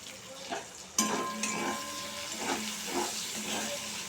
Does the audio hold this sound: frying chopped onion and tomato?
yes